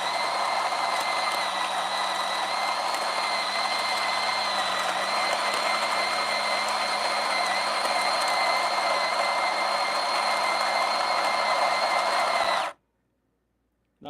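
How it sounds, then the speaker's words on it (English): Meraki espresso machine's built-in grinder grinding coffee beans, a loud, steady mechanical whir with a high whine that holds evenly for about twelve seconds before cutting off abruptly into silence. "you guys are going to hear the sound of grinder"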